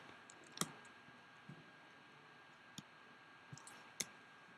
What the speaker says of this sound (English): I'm just simply going to type in